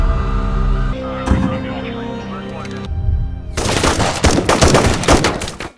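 Rapid bursts of movie gunfire as police officers shoot, loud and close, breaking out after an earlier stretch of music and mixed sound.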